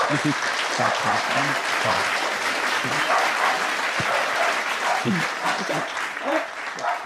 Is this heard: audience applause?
yes